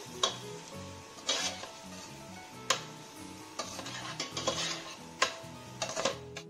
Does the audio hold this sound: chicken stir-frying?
yes